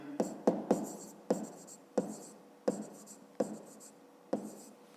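Pen or pencil writing a math answer on paper, about nine quick taps and short strokes in an irregular rhythm, close and fairly quiet.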